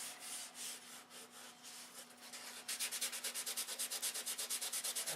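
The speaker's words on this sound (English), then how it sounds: "Sanding with 220 now" Model airplane wing fillets being sanded with 220-grit sandpaper: soft irregular rubbing at first, then a steady run of quick, even back-and-forth strokes, close and fairly quiet.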